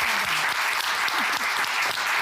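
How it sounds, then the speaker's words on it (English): Steady applause from an audience at a World Economic Forum panel session, dense and even throughout, with a few faint vocal sounds underneath. "thank you for whoever started the applause"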